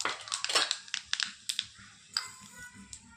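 Mustard seeds crackling and popping in hot oil for tomato chutney, a burst of sharp close pops that spreads into scattered sputters and a fizzing hiss.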